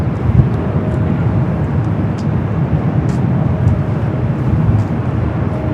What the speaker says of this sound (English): Also have the Osaka flight heading up here for north side at takeoff.